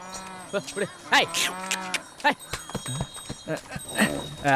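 A cow moos repeatedly in a rural film scene, its loud, drawn-out calls rising and falling between and over the nearby talking of several people.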